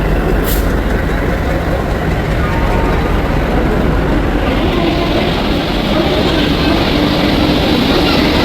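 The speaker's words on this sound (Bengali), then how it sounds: "আমাদের ট্রেন দিয়ে দিয়েছে, এখন আমরা যাচ্ছি আমাদের বগির দিকে।" The Howrah–New Delhi Rajdhani Express stands at a railway station platform, filling the air with a loud, steady, close rumble and broad mechanical roar that never lets up.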